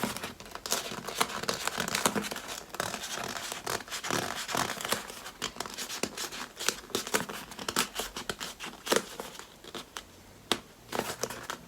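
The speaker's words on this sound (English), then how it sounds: "now I'm going to massage the seam a little" Rubbery crinkling, squeaking and rubbing as a glued EVA foam helmet seam is pressed and massaged by hand, in irregular close bursts, fairly quiet and without talk.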